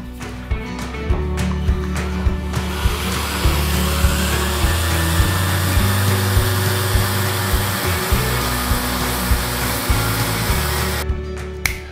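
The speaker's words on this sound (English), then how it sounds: "I'm using an orbital sander and iridium discs, 180 grit" An orbital sander with 180 grit discs works over a helmet, a close, loud buzzing whir with regular rhythmic pulses as the pad moves across the shell, cutting off near the end.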